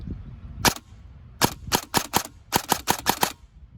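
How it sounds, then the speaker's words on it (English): A CYMA Platinum M4 airsoft gun dry fires with no BBs loaded, giving sharp, close mechanical cracks: a single shot, then a short burst, then two quick bursts of rapid snaps, with nobody speaking. "Let's just go ahead and give it a dry fire first to see how fast it shoots."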